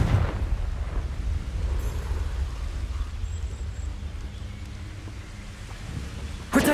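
A Confringo explosive spell in Hogwarts Legacy rumbles as a sustained, heavy low boom, with a sharper burst at the very end.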